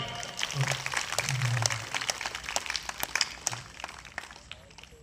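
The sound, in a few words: applause at a wedding ceremony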